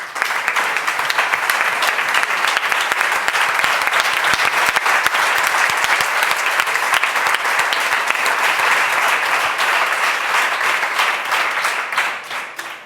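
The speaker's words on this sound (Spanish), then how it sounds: "os pido otro aplauso para Julio Rodríguez" Sustained applause from an audience at a Podemos state citizens' council meeting, a dense, steady wash of many hands clapping at full strength for about twelve seconds before starting to thin out at the very end.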